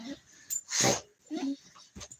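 Small dog on a lap giving soft whimpers and snuffly breaths, a few short separate bursts in a quiet close setting.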